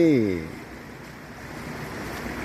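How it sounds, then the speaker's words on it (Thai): Floodwater pours along the Ruak River near the Golden Triangle on the Thai–Myanmar border at Mae Sai, a broad steady rushing wash with wind buffeting the microphone, preceded by a brief voice at the start. "น้ำไหลเล็ดลอดออกไป"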